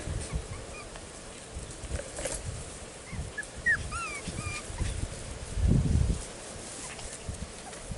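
Six-week-old F1 Cockapoo puppies play together on a farm, giving faint high squeaks and whimpers scattered over soft shuffling, with a brief louder rustle near the end.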